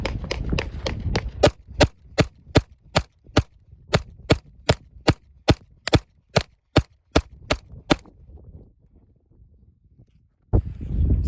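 A Smith & Wesson M&P pistol with upgrades fires a rapid string of about twenty sharp, loud shots in a steady rhythm, followed by a pause, then another report at the end.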